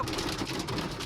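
Hail or ice falling in Shillong during a snowfall, a dense continuous patter of pellets striking surfaces, loud and steady throughout a brief stretch with no voices.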